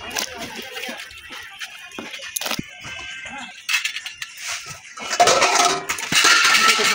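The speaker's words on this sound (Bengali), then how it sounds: "ঢাকা দিয়ে দিলাম।" A lid is set down over a kadai of water while fish and kochu shak cook, giving a few short metallic clanks and clatters amid scattered kitchen handling noise.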